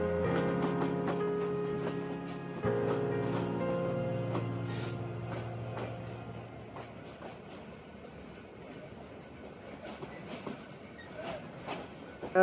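A train rolls slowly into platform one of Dhaka Airport railway station with clattering wheels and metallic squeals, the rumble gradually easing as it slows to a stop.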